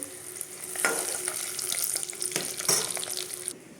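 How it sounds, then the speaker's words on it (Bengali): Oil sizzles and crackles steadily in a pan as eggs fry, with a few sharper spits and clinks of a utensil near the end. "ডিমগুলো ভাজা হয়ে এসছে, তুলে নেব।"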